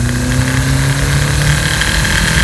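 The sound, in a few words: 1.8T car engine accelerating in second gear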